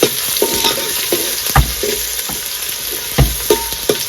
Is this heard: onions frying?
yes